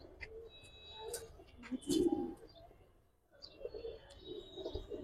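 Giribaz high flyer pigeons cooing softly nearby in two quiet bouts, with a few light chirps and a brief pause between them.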